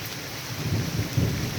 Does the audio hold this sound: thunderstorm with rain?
yes